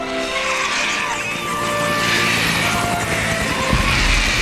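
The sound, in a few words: helicopter approaching in Jurassic Park The Game video game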